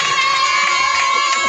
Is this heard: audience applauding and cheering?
yes